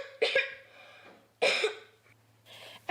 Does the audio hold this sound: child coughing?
yes